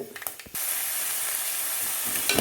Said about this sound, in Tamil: இதில் கடுகு கடலைப்பருப்பு உளுத்தம் பருப்பு கொஞ்சம் வெந்தயம் போட்டு தாளிச்சிக்கலாம் பொரியுது